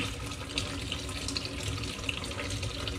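Warm tap water runs steadily from a faucet into a plugged sink, a continuous close splashing rush filling the basin, with no talk.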